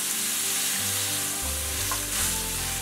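Tomatoes and wood ear mushrooms stir-fry in a wok as a small bowl of water goes in, producing a loud, steady, close-up sizzle and hiss that swells briefly, with no speech.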